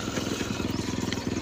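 Motorcycle engine running close by with a steady, rapid chugging pulse throughout, ridden along a narrow footpath meant for pedestrians on a rough, hazardous track.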